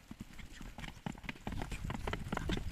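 A horse's hooves clip-clop close by in quick, uneven steps on hard ground, rain having just begun, with faint background voices.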